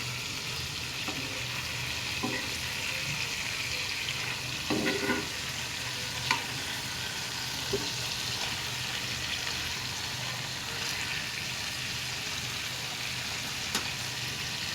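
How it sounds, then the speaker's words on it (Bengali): Chicken pieces frying in mustard oil and ghee give a steady, close sizzle throughout, with a few soft clinks and scrapes of a utensil in the pan. "এখন চিকেনগুলোকে এর মধ্যে দিয়ে দেব। আমি 2 পিস করে ভেজে নেব।"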